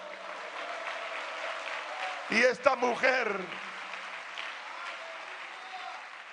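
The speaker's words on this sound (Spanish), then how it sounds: "Tribute un aplauso al Señor" In a Spanish-language church service, a congregation's applause rises as a soft, wide wash behind a preacher's voice. He speaks over it briefly in the middle, and the clapping stays in the background.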